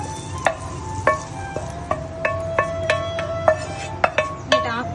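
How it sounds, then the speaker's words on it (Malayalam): Prawns being fried in a pan for a Kerala-style prawn fry, heard as a low sizzle under repeated sharp scraping and stirring strokes of a utensil against the pan, close and fairly loud, with no talk. "കൊഞ്ചൊന്ന് ചെറുതായിട്ടൊന്ന് വറുത്തെടുക്കാമേ."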